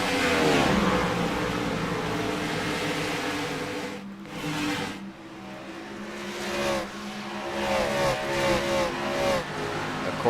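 Stock cars racing at Darlington Raceway in a Cup Series event, engines roaring loudly and continuously with sweeping pitch rises and falls as cars pass and accelerate, with a brief dip in the pack noise midway.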